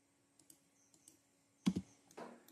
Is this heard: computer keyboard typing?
yes